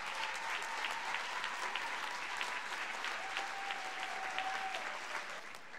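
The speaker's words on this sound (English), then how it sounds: "If so, clap now." A large audience at a formal debate claps together to vote for a team, a sustained, even roar of many hands from across the hall, with a faint tone running underneath.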